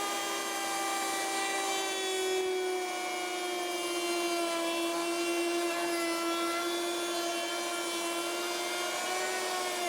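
A router bit cuts tongues into wooden shaker-style cabinet door pieces, making a continuous high whine with a steady tone, loud and close throughout, and no talking.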